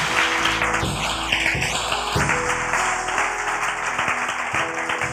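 Church congregation applauding during a sermon, clapping blended under sustained musical tones and tonal sweeps, moderately loud and continuous.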